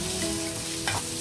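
Onion, carrot and green chilli fry in a hot pan with a dense, steady sizzle, a brief stirring scrape near the end, close and fairly loud.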